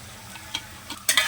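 Food stirred in a pan after green and red chilli sauces go in, a few faint scraping strokes with a soft sizzle underneath, ending in a louder burst of scraping near the end.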